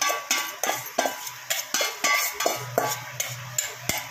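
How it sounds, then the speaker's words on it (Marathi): Wheat vermicelli stirred with a spoon in a boiling pot, regular scraping knocks against the metal about twice a second, close and fairly loud over a low bubbling simmer, no voices. "शेवया टाकून घेतलेल्या आहेत आता सगळ्या, आणि आता हे मिक्स करूया आपण।"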